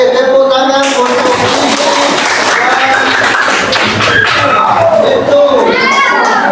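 Applause and cheering from schoolchildren in a classroom, loud and sustained, with shouting voices and some harmonic calls rising over a dense clapping wash throughout.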